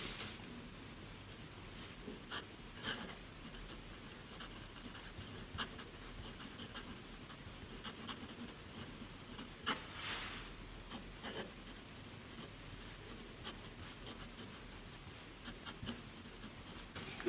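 A Tibaldi Bononia fountain pen with a new nib scratches across paper in a faint, continuous soft rasp, with a few slightly louder strokes, heard alone and close.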